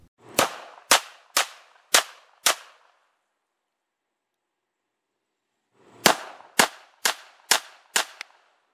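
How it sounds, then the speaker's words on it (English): An SMC-918 pistol chambered in 9x18 Makarov fires two strings of five and six sharp shots at a steady pace, loud and close, separated by a few seconds of silence. "let's show a little shooting footage."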